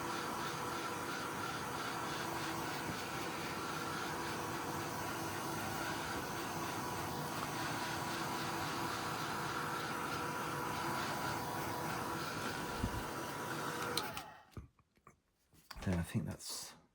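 A heat tool blows steadily as it dries distress oxide ink on a craft background, a constant airy whir that cuts off near the end, followed by brief handling clicks.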